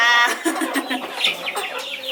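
Chickens cluck and chatter up close while being fed black soldier fly larvae, a busy run of short, overlapping calls with one bright squawk near the start and no speech.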